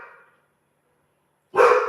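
Dogs bark indoors in short bursts: a brief bark at the start, a gap of silence, then a louder, closer bark near the end.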